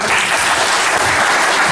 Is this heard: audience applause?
yes